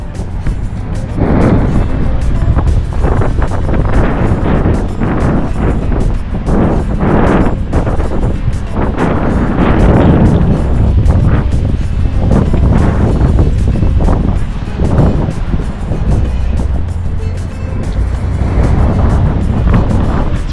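A wide beach with surf rolling in under strong wind, a loud continuous roar with wind buffeting the microphone and waves swelling and breaking in repeated surges.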